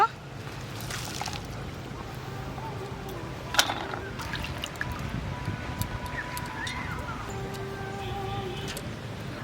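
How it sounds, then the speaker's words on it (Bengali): Water squeezed out of bitter gourd by hand, a close wet trickling and dribbling with soft squelching and splashes, steady and moderately loud, with a sharper drip or tap partway through. "জলটা নিগড়ে নিগড়ে বের করে নেব"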